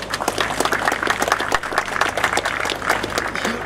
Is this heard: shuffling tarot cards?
no